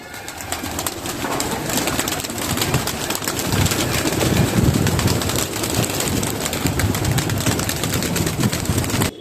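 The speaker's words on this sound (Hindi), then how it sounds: "मेरे आधा से ज्यादा कबूतर बाहर निकल चुके हैं" Many pigeons stir and flutter as they leave their enclosure on an evening feeding, a dense, continuous rustle of wings and soft cooing that stays steady and close throughout, with light wind noise.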